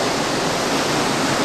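Loud, unbroken roar of rough Alaskan seas with waves of 8 to 10 feet breaking alongside a cruise ship, a dense hiss of water and wind from a couple of stories above the waterline.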